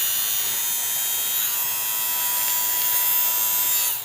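An electric shaver buzzes steadily and loudly up close, a constant high whine that holds without a break before cutting off at the end.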